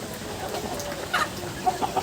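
Country chickens cluck softly in a quiet setting, a few short clucks bunched toward the end over low background noise.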